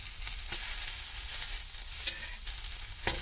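Leaf vada sizzles steadily in a pan over a low flame, with a constant crackling hiss broken by occasional louder pops and spatters.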